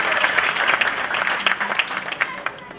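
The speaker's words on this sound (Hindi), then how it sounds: "एक बार जोरदार तालियां।" Loud, dense applause from an audience at a Hindu religious discourse in a temple, sustained claps filling the whole stretch with scattered sharper individual claps.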